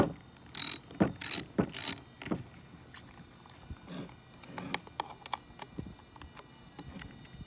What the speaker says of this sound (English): now you take your 7/16 wrench and you tighten the nuts